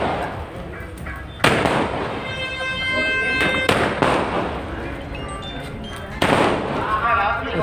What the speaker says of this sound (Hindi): भारतीय जनता पार्टी कार्यकर्ता उत्साहित है। पटाखे बज रहे हैं।